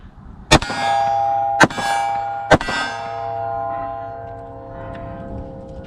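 A Glock 43 pistol with a factory magazine fires three sharp, loud shots about a second apart. Each shot is followed by a metallic ringing that fades over several seconds, with no talking.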